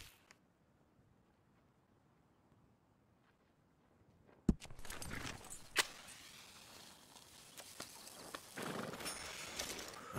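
A horse in the Red Dead Redemption 2 video game walking on a road, faint for the first few seconds. After a sudden thump comes a louder stretch of hoof clops, harness and tack jangling, and movement noise.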